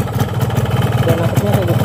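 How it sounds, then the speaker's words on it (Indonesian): A cold two-stroke motorcycle engine idles close by with a fast, uneven putter, while someone talks briefly over it. "Dan kalau mesinnya dingin suaranya begini men."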